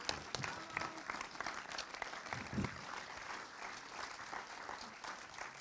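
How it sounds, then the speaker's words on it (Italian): Applause from an audience at an Italian film screening and talk, a broad steady patter of clapping that holds through the whole stretch without letting up. "Un applauso, Stefano."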